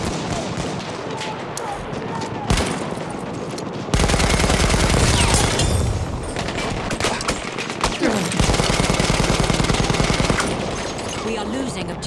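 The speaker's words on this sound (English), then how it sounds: "machine gun! One of theirs!" Battlefield 1 machine gun fire rattles in loud sustained bursts, with a heavier, denser stretch midway and again near the end, mixed with other battlefield gunfire and game noise.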